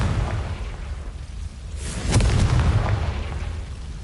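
A booming explosion from a Confringo fire-blast spell in a PS5 Harry Potter-style game, a single heavy burst near the middle with a rumbling low tail that lingers under ambient game sound.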